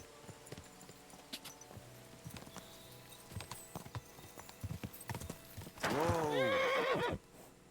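Horse hooves clopping along in Kingdom Come: Deliverance II, with a loud, close whinny near the end over steady game ambience.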